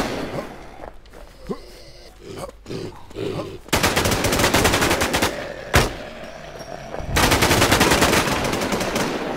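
Rapid automatic gunfire from the online survival shooter Infestation, with dense bursts of loud shots and sharp single cracks; quieter game noise and a few isolated shots lead in before the heavy firing starts.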